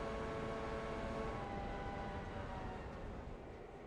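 A train in the Railroader railway video game gives off a faint, steady, low mechanical rumble with a soft hum, unchanging and with no voices.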